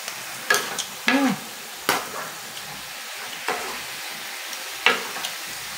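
Chayote and tuna are stir-fried in a pan, producing a soft sizzle punctuated by about six distinct scraping and clinking strokes of a utensil against the pan.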